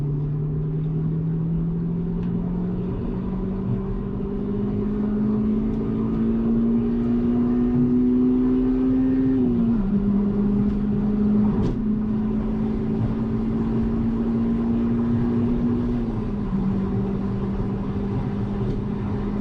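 A Nissan GTR accelerates hard, its engine note climbing steadily through the gears with brief drops at each shift, loud and close from inside the car.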